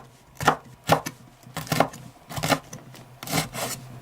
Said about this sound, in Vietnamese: Cắt khoanh vài trái ớt để trang trí cho đẹp.